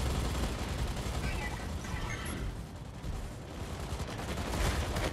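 Dense, continuous gunfire and explosions in a video game tournament shootout, heavy rapid bursts filling the mix loudly with no letup, with a voice talking over parts of it.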